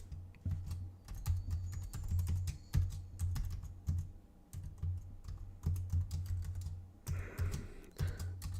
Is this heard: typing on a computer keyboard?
yes